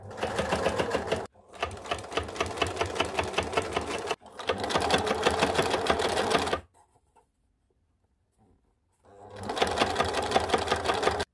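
Sewing machine stitching along an abaya neckline, running in three loud steady bursts with brief stops between them and a longer silent pause before the last run.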